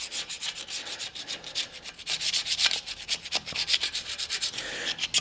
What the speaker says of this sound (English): I'm just taking a putty knife and I'll go ahead and clean what I can off that